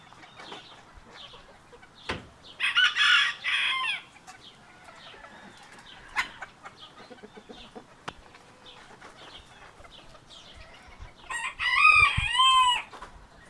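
Two loud rooster crows ring out, one early and one near the end, with soft hen clucks and scattered barnyard noises in between.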